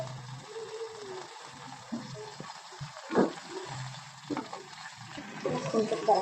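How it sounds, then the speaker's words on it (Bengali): Cauliflower seasoned with salt and a little sugar fries in a pan, giving a steady low sizzle broken by occasional stirring scrapes and bubbling. "ফুলকপিটা ভাজা হয়ে গেছে"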